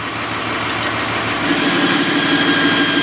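A Dodge diesel engine with an HE351VE variable-vane turbo rumbles at idle, its exhaust tone shifting partway through to a deeper, more pressurized steady drone as warm-up mode closes the vanes like an exhaust brake.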